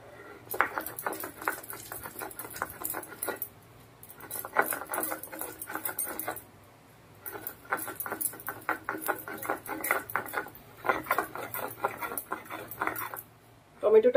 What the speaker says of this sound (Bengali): এবার এই টমেটো কুচিটা একটু বেটে নেব।